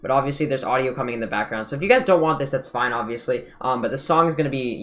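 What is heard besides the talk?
No everyday noises stand out.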